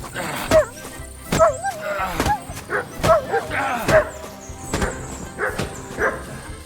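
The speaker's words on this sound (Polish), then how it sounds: "O, pies jakiś biały." Repeated dog barks and yips from a white dog in the medieval role-playing game Kingdom Come: Deliverance II, sharp and fairly loud in irregular bursts over game sounds, with voices talking in between.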